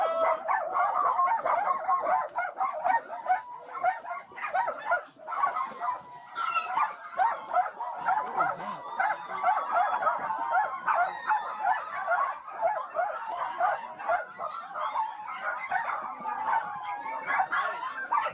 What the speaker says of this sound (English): that is a newborn puppy